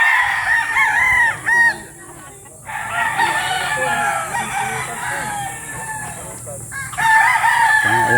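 Chickens on a farm in Unisan, Quezon, crow repeatedly and cluck close by in several loud bursts, with quieter talk and farm background between calls.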